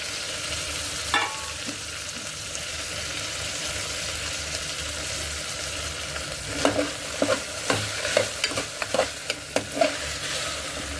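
Green beans fry in a pan for a Kashmiri green bean and onion gravy, a steady hiss that picks up a run of quick stirring clicks and scrapes toward the end.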